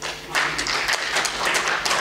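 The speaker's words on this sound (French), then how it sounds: "Est-ce qu'on peut applaudir pour Jésus-Christ?" A church congregation claps in unison, a dense run of rhythmic handclaps close and fairly loud, with a faint voice beneath.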